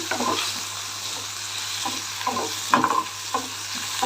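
A sizzling tempering is stirred into pesarattu batter mix, with repeated close spoon scrapes and clinks over a low, steady sizzle.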